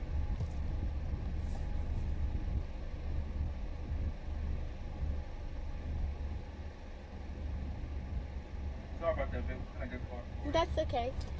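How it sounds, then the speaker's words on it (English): Busy weekend traffic rolls past in a continuous low rumble of many cars, with engine hum filling the background and voices briefly heard near the end. "It's like a lot of cars."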